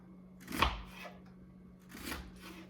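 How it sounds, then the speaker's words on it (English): A kitchen knife cuts an onion into small pieces on a cutting board for a spicy sausage and bean soup, two faint, separate chopping strokes about a second and a half apart in a quiet kitchen. "So we're gonna cut this onion up. I'll try to cut it, not minced, but small."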